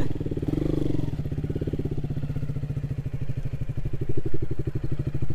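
A KTM Duke 200 motorcycle rides along a highway through forest, its single-cylinder engine thrumming in a steady, fast pulse with a brief rev surge near the start and another toward the end.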